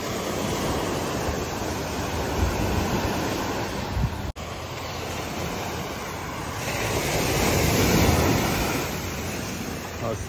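Heavy surf of a rough sea during monsoon rain, a constant loud wash of breaking waves with wind rumble on the microphone, a brief dropout midway and a swell of louder surge near the end.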